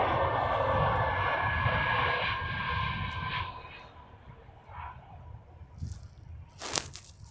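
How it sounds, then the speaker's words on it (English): An Airbus A320 lands at Arlanda airport, its engine roar loud and broad at first, then fading into a quieter rumble, with a few short knocks and rustles near the microphone at the end. "A320 approaching the runway I'm spotting at, and it's landing"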